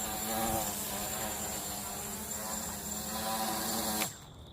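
An MJX Bugs 3 quadcopter drone hovers close by with a loud, steady insect-like buzz of spinning propellers, which cuts off abruptly just before the end.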